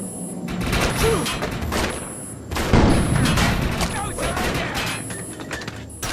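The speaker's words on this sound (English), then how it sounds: "It looks like it's going to explode!" Reactor explosion and gunfire in the game Defiance, rapid bursts of weapon fire and heavy thuds building to a louder blast midway, with continuous battle noise and voices talking over it.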